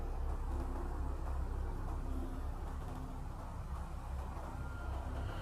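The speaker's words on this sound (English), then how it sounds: "I can hear some traffic" Distant road traffic drifts into a quiet forest as a steady low rumble, faint and continuous with no distinct passing vehicles.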